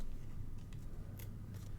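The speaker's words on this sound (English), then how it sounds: "And then I'm going to just trim it off with my paper snips." Paper snips trim a sheet of paper for a handmade card, giving a few quiet, crisp cuts spaced apart over a soft steady background.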